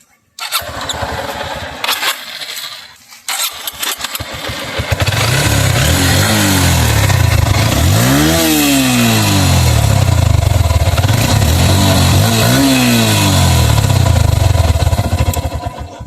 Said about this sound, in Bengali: আমরা যদি এই বাইকে ইঞ্জিন সাউন্ডটা আপনাদেরকে শোনাই